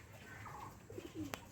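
Pigeons on a rooftop loft give a few faint, brief coos over quiet outdoor ambience, with one sharp click near the end.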